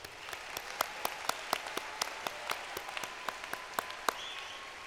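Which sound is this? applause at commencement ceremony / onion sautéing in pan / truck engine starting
applause at commencement ceremony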